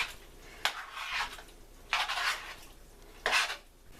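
Three separate bursts of a spoon scraping and clinking against a bowl as salmon seasoning is stirred into cobbler filling, moderately close with quiet pauses between.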